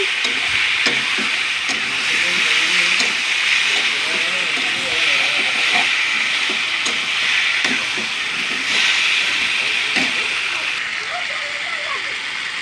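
Rohu fish curry with potatoes and spices sizzling and frying in a kadai, a steady loud hiss with stirring scrapes and faint voices or background sounds underneath.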